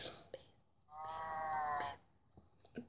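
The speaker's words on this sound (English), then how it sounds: "Oh, cows." A single drawn-out, tonal moo from a cow in the video game Minecraft lasts about a second mid-clip, with faint soft taps before and after.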